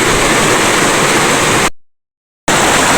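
A river creek flows steadily with dense, loud broadband rushing water, close by and continuous. It cuts out abruptly for under a second, then resumes, and no one talks over it.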